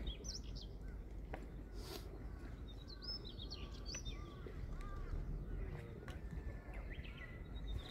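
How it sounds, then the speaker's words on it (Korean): Birds chirp and whistle outdoors beside a float-fishing spot, several short calls scattered through a steady low background rumble, fairly near and clear. "새소리 드세요. 새소리"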